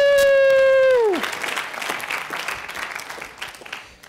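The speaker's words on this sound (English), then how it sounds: "Give Morgan some applause, if you will." A crowd at an event claps for Morgan; a falling whistle-like tone fades out first, then steady, dense applause fills the room and slowly tapers, with faint cheering mixed in.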